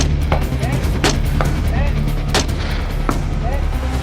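A rifle fired repeatedly during outdoor target shooting, giving about five sharp cracks spread unevenly over a few seconds above a steady low background rumble.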